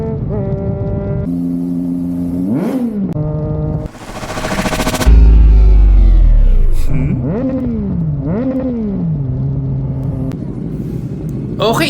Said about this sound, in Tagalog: Yung chill ride, yung tunog ng engine mo